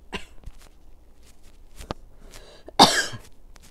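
A person coughs once, sharply and close, in a quiet room, after a few faint knocks and small movement sounds.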